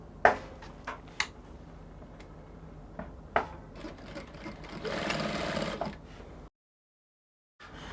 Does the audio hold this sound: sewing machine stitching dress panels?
yes